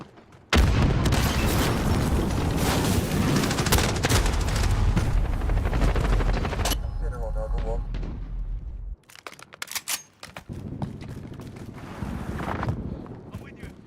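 Grenade blast and rolling gunfire in a shooter video game, a loud dense barrage of booms and shots filling most of the stretch before breaking into scattered bursts, with game voices calling out over it.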